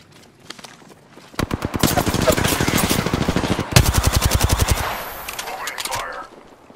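Rapid automatic gunfire in an Apex Legends battle, with bursts of close, loud shots rattling in quick succession, a brief pause, then another sustained volley before tapering off into scattered quieter shots.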